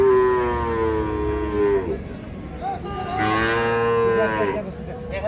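Sahiwal bull calves six to seven months old moo loudly at a cattle market in Ambari, two long drawn-out bellows close by over a steady crowd murmur.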